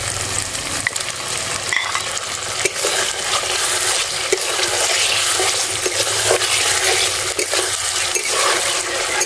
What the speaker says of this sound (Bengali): মশলা থেকে তেল ছাড়তে শুরু করলে ভেজে রাখা আলু দিয়ে দেবো।